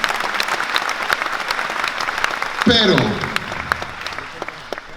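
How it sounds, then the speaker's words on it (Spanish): A large church congregation at a Catholic Charismatic Renewal gathering claps loudly and continuously, a dense crowd applause with sharp individual claps. A brief burst of a voice or noise surfaces midway, then the applause carries on. "Un aplauso fuerte para esta persona también."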